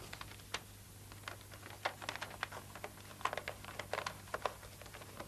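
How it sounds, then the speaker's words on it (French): A small paper tube is rolled by hand in a sheet of paper during a magic trick, giving faint, scattered crinkles and soft rustling taps over a quiet background hum. "je roule le petit tube dans la feuille de papier"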